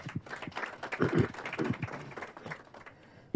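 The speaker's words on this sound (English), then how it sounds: "ladies and gentlemen, let's again give her a round of applause." Audience applause at a university community event, a dense patter of claps that peaks early and then thins out toward the end.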